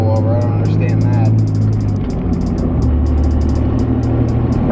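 A 2017 Cummins diesel pickup with a dual-disc clutch revs up steadily toward a 2,500 RPM shift, its loud, continuous engine drone filling the cab while someone talks over it.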